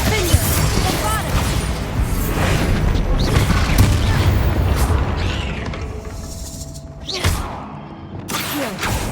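A Bombarda blasting spell in Hogwarts Legacy sets off a dense, loud booming rumble with crashing debris and mechanical clatter that swells, then fades to a short thud and lighter rubble.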